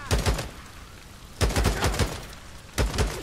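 Gunfire from the video game Days Gone: three quick bursts of rapid, closely spaced shots, each a cluster of sharp cracks separated by short pauses, loud and up close.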